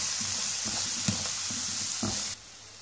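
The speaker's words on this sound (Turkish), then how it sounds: "Ve soteleme işlemimize başlıyoruz." Thinly sliced, washed leeks sauté in oil for a vegetable quiche, giving a close, even sizzling hiss with a few soft stirring clicks before it drops off abruptly near the end.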